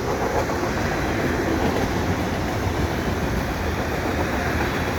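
CN freight train with Conrail and Kansas City Southern cars rolling past up close at Des Sources Boulevard, a steady loud rumble and rattle of wheels on rail throughout with no talk.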